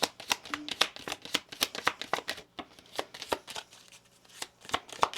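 Tarot cards shuffled and laid down by hand in a run of crisp, rapid riffles and snaps, close and fairly quiet, with a few softer card drops near the end and no talking.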